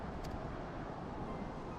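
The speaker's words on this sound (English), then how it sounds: "It's very windy." Wind blowing across an outdoor area in the video game Final Fantasy XIV, a steady, broad rushing that holds at an even level without pause.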